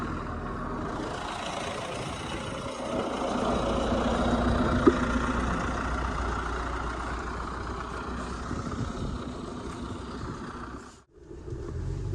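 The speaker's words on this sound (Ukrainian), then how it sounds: "Що ж, навантажувач працює." Front loader fitted with a KUN attachment clearing snow on a rural field road, its engine droning and labouring steadily nearby throughout, with a brief dip near the end.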